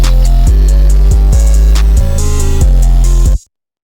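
A hard trap beat pushed through a soft clipper set to 85 on the mixer: heavy distorted 808 bass with punchy kicks and hi-hats, loud and dense throughout, cutting off abruptly near the end.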